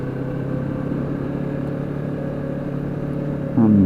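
A small sport motorcycle engine, such as a Yamaha R3 or Honda CBR500R, hums steadily at high revs while riding, then swells louder in a brief rev near the end. There is no talking.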